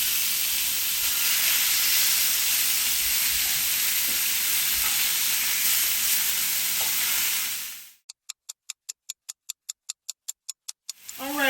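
Filet mignon steaks sear in a hot pan with a loud, steady broadband sizzle for about eight seconds, then drop into near silence broken by a run of sharp, evenly spaced ticks.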